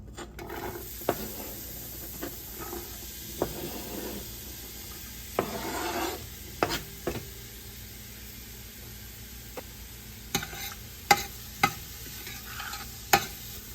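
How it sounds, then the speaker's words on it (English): Chopped onions, two of them, dropped into a hot pot on high heat for coconut masoor dahl, giving a steady sizzle with stirring and scraping and a few sharp clinks of a utensil on the pot, with no talking. "I'm going to add 2 onions."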